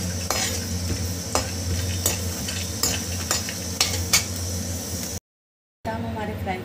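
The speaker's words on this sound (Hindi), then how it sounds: "बादाम हमारे फ्राई हो चुके हैं" Almonds fry in oil in a kadhai while a spatula stirs them. There is a continuous close sizzle with repeated metallic scrapes and taps against the pan, and the sound briefly cuts out near the end.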